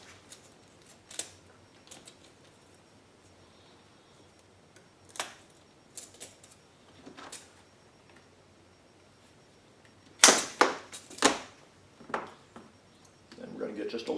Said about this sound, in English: now we're going to cut another section of 1/4 inch hose, and we're going to cut that 8 1/4 inches long